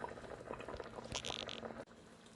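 Jamaican brown stewed pork simmers in a pot, a soft steady bubbling and gentle sizzle heard up close at low volume.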